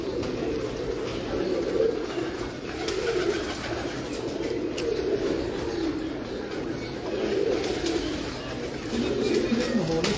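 Pigeons coo in a soft, repeated rolling pattern, several birds overlapping at moderate distance against a steady background hiss, with faint chirps scattered through.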